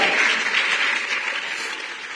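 Church congregation gives a round of applause at an evening service, a dense, even rush of clapping that stays fairly loud and eases off slightly toward the end.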